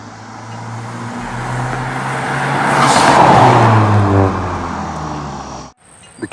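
A 2018 Honda Civic Hatchback fitted with an aftermarket blow-off valve and intake builds up to a swelling engine roar, then cuts off abruptly, leaving a short sharp release.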